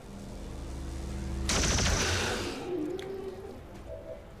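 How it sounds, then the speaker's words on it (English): A single sharp pistol shot cracks out in XCOM 2, loud and close, after a low engine-like hum. A booming tail trails off, followed by faint tonal game chimes. "Let's do some more pistol shots."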